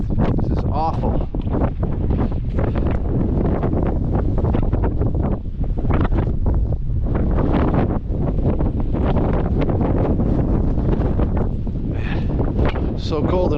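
Strong, cold wind gusting across a mountaintop summit in New Hampshire, buffeting the microphone in loud, rough bursts throughout, with occasional voices faintly mixed in.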